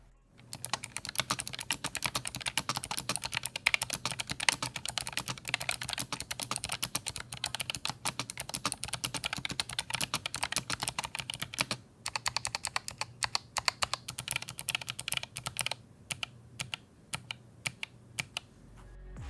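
Rapid, continuous typing on an ROG Claymore II gaming keyboard with RX Blue mechanical switches, a dense stream of crisp clicky keystrokes at close range with a few brief pauses near the end.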